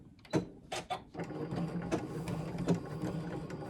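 Sewing machine stitching fabric along a tape line, quiet rapid mechanical whirring with a few short bursts at the start followed by a continuous run, close by.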